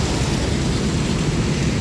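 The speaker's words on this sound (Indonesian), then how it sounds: "Makassar kembali diguyur hujan." Steady rain falls on a road below a flyover in Makassar at night, a dense continuous hiss with a low rumble of traffic, even and unbroken throughout.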